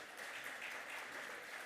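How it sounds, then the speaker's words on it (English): Applause from an audience at an event, a steady wash of many hands clapping throughout, moderately loud and without a break. "Sir, round of applause for all the..."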